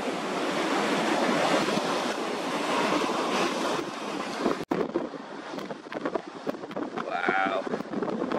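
Ocean surf from a 3-5ft swell arriving at 9-second intervals, with waves shoaling toward shore, makes a continuous loud roar with heavy wind buffeting the microphone and a sharp break partway through.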